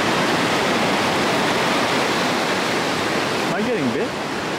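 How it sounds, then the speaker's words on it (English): Ocean surf rolls onto Daytona Beach, Florida, as a loud, steady wash of broadband noise close to the microphone, with a brief voice near the end. "We are now by the beach here at the main Daytona Beach here in Florida."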